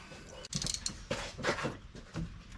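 A 3/8-drive ratchet clicks in short bursts with creaky mechanical clatter while tightening bolts during temperature sensor work on a 2021 Chevy Blazer, close and moderately loud, with no talking.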